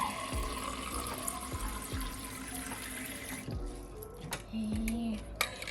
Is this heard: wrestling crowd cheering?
no